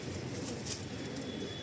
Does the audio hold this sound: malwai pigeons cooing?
yes